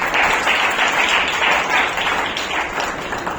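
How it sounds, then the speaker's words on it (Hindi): Dense, continuous applause from an audience at an award ceremony as a certificate is handed out, a loud, even wash of many hands clapping that tapers slightly toward the end. "जोरदार तालियां"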